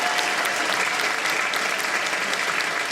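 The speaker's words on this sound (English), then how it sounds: "Let's give it another joyous cheer, shall we?" Steady, dense applause from an audience after a powerful performance by a vegan singer at a live launch event, filling the hall evenly from start to end.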